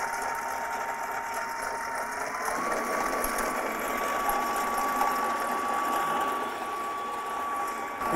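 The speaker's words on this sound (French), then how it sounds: "Et on met à tourner au batteur." An electric mixer whirs steadily while whisking egg whites into meringue for an île flottante, a continuous fairly quiet motor whine that rises slightly in pitch partway through and holds, with no talking.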